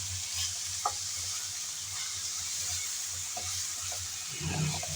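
Helencha greens sizzle and fry in a pan over a high flame while being stirred, giving a steady close hiss broken by occasional scraping and clinking from the stirring.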